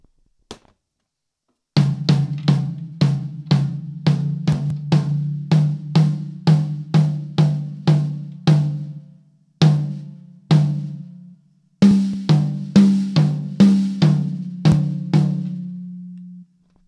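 Drum struck repeatedly while its head is tightened for tuning: single sharp hits, then runs of evenly spaced strikes with brief pauses between groups, each resonant low tone decaying quickly, close and loud with no talking.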